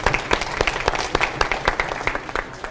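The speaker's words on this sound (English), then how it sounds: "let's be sure and give them a big round of applause" An audience at a high school senior sendoff applauds with a round of clapping. Individual claps stand out sharply in an uneven rhythm, close and moderately loud, with no talking.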